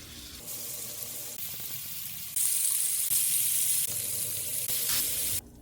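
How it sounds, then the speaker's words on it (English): Pork shoulder browning in a hot pan for hunter's stew, a steady bright sizzle that jumps louder partway through as the meat shifts, then cuts off abruptly at the end. "We're going to put this into our pan, and we're going to brown this up"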